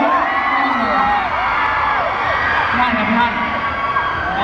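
A large concert audience cheers and shouts continuously, a dense, loud crowd roar with whoops and voices blending throughout.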